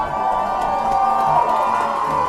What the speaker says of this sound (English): they are giving this team a huge ovation as they come to the sideline